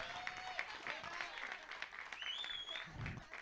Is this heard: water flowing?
no